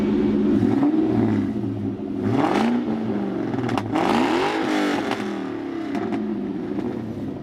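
A Mustang at a cars and coffee meet revs up loudly nearby in several rising and falling bursts, the engine note climbing and dropping with a whining edge over the rumble.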